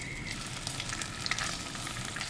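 Fish pan-frying in oil in a pot: a steady, dense sizzle and crackle of hot oil that runs throughout with a few sharper pops, close and loud, no voices.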